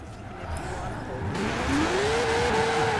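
A Toyota GT86 engine in the video game Forza Horizon 4 drones and then revs higher, its pitch rising and holding, with tire noise and a voice talking over it.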